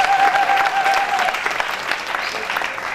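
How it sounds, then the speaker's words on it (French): Steady applause from a crowd at a civil wedding ceremony, loud and sustained across the whole stretch with dense, continuous clapping. "Applaudissez pour elle, s'il vous plaît."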